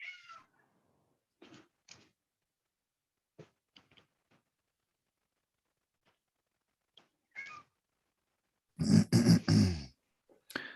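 A cat meowing at a door, wanting to be let out: scattered short meows spaced apart in near silence, then a louder, longer run of insistent calls near the end.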